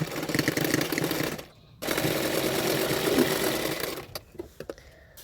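A sewing machine stitches a folded hem on a front-open princess-cut blouse in steady rapid runs, with a short pause partway through and a few clicks and handling knocks at the end, close and loud with no talking.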